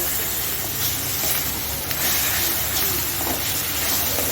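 Mustard and poppy seed paste stirred in a hot pan for a spicy katla fish kalia: a loud, continuous, steamy hiss of sizzling that stays even throughout.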